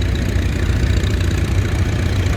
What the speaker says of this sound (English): the tractors are parading across, and this is a really good way of seeing them in action, motoring from side to side